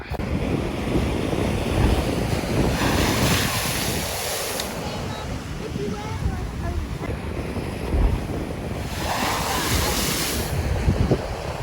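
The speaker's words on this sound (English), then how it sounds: "Beware of big waves." Big ocean waves break on the shore at Bicheno, Tasmania, a loud continuous wash of surf with two swelling crashes, buffeted by wind noise on the microphone.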